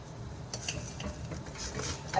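A spoon stirs melted chocolate and coconut oil in a makeshift double boiler for truffles, making soft scraping and clinking against the bowl in a few quick strokes, close and quiet with no talk.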